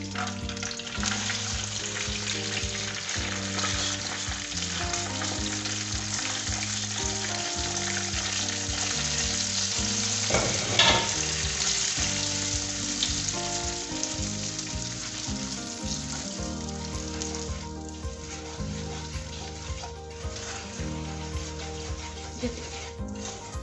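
Gram flour (besan) roasts in ghee for ladoos, giving a steady soft sizzle and crackle that runs unbroken for over twenty seconds, with occasional faint stirring scrapes and no talking.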